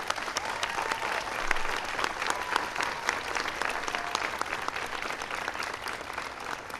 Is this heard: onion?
no